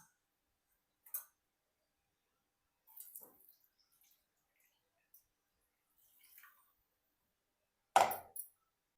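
Liquid from ground crab-leg paste drips through a kitchen sieve in a few sparse, quiet drops and trickles, with one louder splash near the end, amid near silence.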